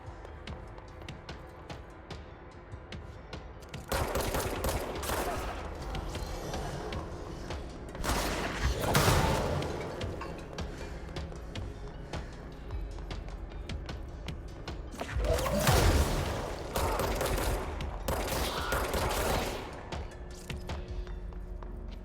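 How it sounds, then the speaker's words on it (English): Gunfire and rocket blasts from the video game Control, with bursts of shots, heavy explosive impacts and thuds rising above a steady rumbling game backdrop, loudest in a few clustered volleys. "He's shooting a rocket at me from somewhere."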